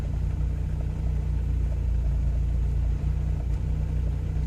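A 1987 Toyota 4Runner engine idles with a bad misfire, a steady low rumble with uneven pulsing throughout, heard up close with no talking.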